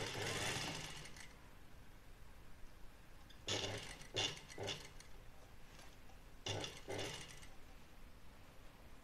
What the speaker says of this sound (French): Et on coud le col.